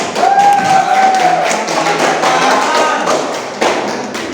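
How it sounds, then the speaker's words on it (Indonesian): Classroom applause for a group presentation in a geography lesson: a dense, loud patter of many hands clapping at once, continuous for several seconds with a high whistle-like tone near the start. "kita berikan tepuk tangan ke kelompok"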